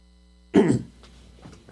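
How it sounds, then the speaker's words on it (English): A single short, raspy throat clearing, close and fairly loud, followed by faint low room noise. "I had to clear my throat."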